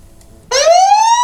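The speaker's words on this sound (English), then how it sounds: "when there's motion, it can sound a siren." A security camera's motion-triggered alarm siren starts abruptly and blares loud and close, a steady rising electronic wail with no voices over it.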